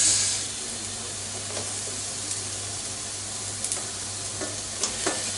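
Onions and cabbage stir-frying for fried atsuage with vegetables, a steady close sizzle and hiss in the pan with a few soft stirring clinks and scrapes, no talk.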